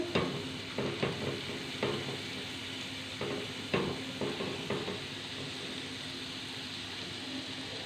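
Garlic sizzles in a pan for white sauce pasta, a steady close hiss broken by scattered knocks and scrapes of a spoon stirring against the metal.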